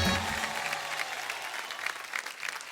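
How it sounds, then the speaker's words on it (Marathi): Loud applause from a studio audience at a Marathi television game show, dense steady clapping sustained throughout with no voices over it. "एकदा जोरदार टाळ्या झाल्या पाहिजे, जोरदार टाळ्या."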